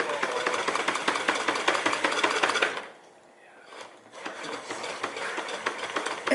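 Small piston air pump with crankshaft and flywheel chugging in rapid, regular mechanical beats, close and fairly loud, pausing briefly midway before resuming its clattering rhythm.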